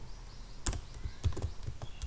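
Light clicks of keys being typed on a computer keyboard while entering C code. The keystrokes come in an irregular run of quiet, close taps over faint background hiss.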